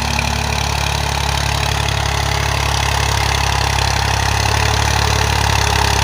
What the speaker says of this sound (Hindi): ट्रैक्टर करीब करीब आ रहा